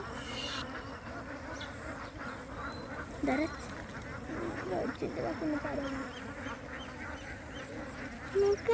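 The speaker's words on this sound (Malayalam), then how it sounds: "നിങ്ങൾക്ക് ഈ താറാവ് കൂട്ടങ്ങളുടെ ശബ്ദം കേൾക്കണ്ടേ" A crowd of ducks quacking continuously, loud and close, with occasional sharper calls standing out over the steady clamor.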